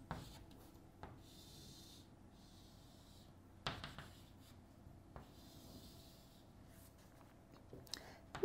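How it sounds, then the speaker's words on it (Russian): A pen or marker drawing a schematic of a hose as a cylinder during a physics lesson: faint, soft scratching strokes come in several separate bursts, with quiet taps between them and no speech. "Давайте сделаем схематичный рисунок. Это будет шланг. Я его рисую как цилиндр."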